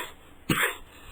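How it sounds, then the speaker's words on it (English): A single sharp cough in a radio studio, short and close, over a quiet hum. "I'm going to cough now"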